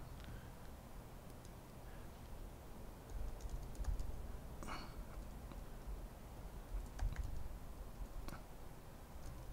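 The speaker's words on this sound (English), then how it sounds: "I'm typing too fast." Rapid keyboard typing, a steady patter of light clicks with brief pauses, close to the microphone over a faint background hum.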